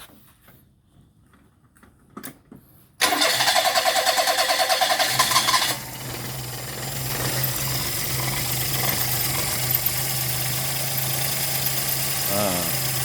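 A Perodua Kancil engine cranks and fires up after a CDI replacement, then settles into a loud, steady idle close by with a rough, vibrating rumble. A voice is heard briefly before the start.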